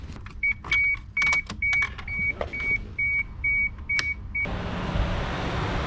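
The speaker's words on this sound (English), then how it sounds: "let's hear this fan turn on." A series of repeated electronic beeps and clicks gives way to a steady rushing whoosh as a Mishimoto electric radiator cooling fan on an MK3 Toyota Supra spins up and keeps running nearby.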